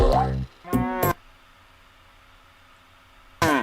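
A cartoon cow moos in an animated nursery-rhyme video, with a couple of short close moos near the start and another at the end, separated by a quiet gap.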